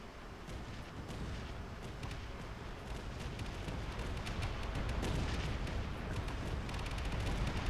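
Missiles and guns fire nonstop in Space Engineers during a ship battle, making a dense roar of crackling shots and rumbling blasts that slowly grows louder.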